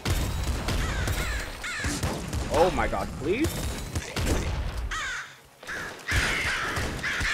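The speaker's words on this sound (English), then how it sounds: "So many crows!" Crows cawing in the video game Nuclear Throne, several harsh game caws in quick succession mixed with gunfire effects, while a player talks excitedly over them.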